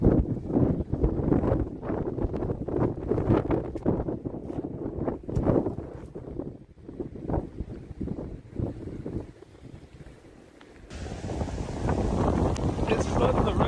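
Strong storm winds battering the UK, a roaring, gusty broadband rush that rises and falls throughout, heavy buffeting against the microphone, with a brighter, steadier hiss of wind and weather taking over near the end.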